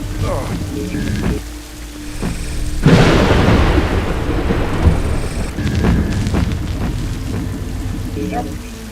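Thunder in the video game Cubic Odyssey rumbles in a loud rolling crash under steady rain, swelling after a quiet start and fading slowly, with a voice talking faintly at times.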